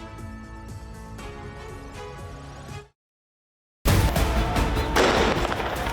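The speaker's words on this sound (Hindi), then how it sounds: "फायरिंग, बारूद, आग, धुआं, पथराव," Gunfire crackles during violent anti-government protests in Kenya, heard as rapid sharp bangs over a tonal background, then a full second of silence before a louder, denser burst of cracks and rumble.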